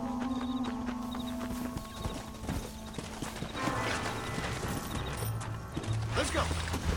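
Horse hooves clip-clop at a steady walking rhythm in the Western video game Red Dead Redemption, moderately close, mixed with game sounds and a brief snort or whinny, and a voice talks over part of it.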